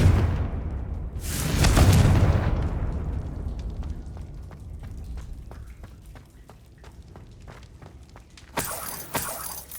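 Confringo blasting curse exploding in Hogwarts Legacy: one loud, close burst with a crackling, debris-scattering tail, followed by a run of soft rhythmic footsteps and a second brighter magical burst near the end.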